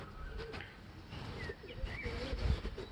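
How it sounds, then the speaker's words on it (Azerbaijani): Pigeons being fed grain in Baku give soft cooing calls and faint chirps over outdoor city background noise, with occasional low thumps. "Rafael göyərçinlərə dən yizdirir."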